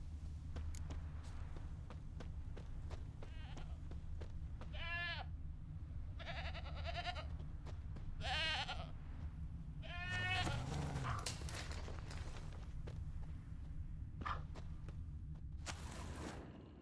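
A goat bleats several times in The Witcher 3, wavering calls spaced out over a low steady ambient hum, with faint footstep-like clicks between them.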